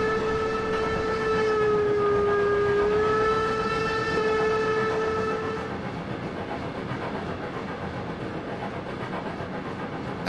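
Steam locomotive whistle on the Brockenbahn narrow-gauge line in the Trainz 22 train simulator, one long steady tonal blast lasting about six seconds over continuous rolling rail noise, which carries on alone after the whistle stops.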